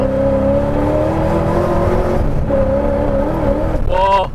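A supercharged LS-swapped Nissan 240sx drag car with an S15 front, T56 transmission and twin-disc clutch, roaring loudly up close as it accelerates and struggles for traction, its engine note wavering under strain.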